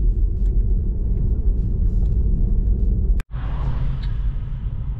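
Tesla Model 3 SR+ rear-wheel drive cruising a snowy mountain road at Urnerboden, a steady low cabin rumble of tyres and road noise with a brief dropout midway.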